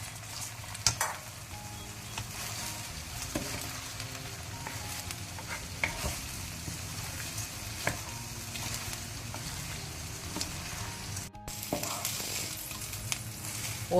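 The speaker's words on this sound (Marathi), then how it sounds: "हो तांदूळ 2 मिनटां असोच ह्या तुपांत भाजून दी" Rice frying in ghee with green peas for a Mangalorean pulao, a soft continuous sizzle with occasional sharp clinks and scrapes of stirring against the pan, close and steady with no talking.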